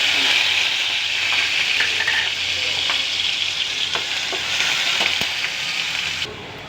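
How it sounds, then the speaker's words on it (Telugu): Green chili masala paste frying hard in a pan, a loud, dense sizzle running the whole time with a few sharp spatters and stirring clicks, then dropping off sharply at the end, no talking. "గుడ్లు తీసుకున్న తర్వాత మనం పచ్చిమిర్చి మసాలా పేస్ట్ అండి ఫస్ట్ వేసి"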